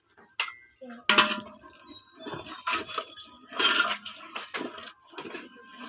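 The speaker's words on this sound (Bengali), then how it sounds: "এই যে চুলায়, মাটির চুলায়, এই যে এখানে বিরিয়ানি ডালটা বসিয়ে দিয়েছি, নাড়াচাড়া করে দেবো।" Biryani stirred in a pot on a clay stove at a village home, with a spoon scraping and clinking against the metal in irregular bursts, close by and moderately loud.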